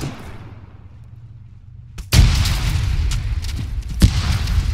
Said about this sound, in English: I'm going to put another frag out that way.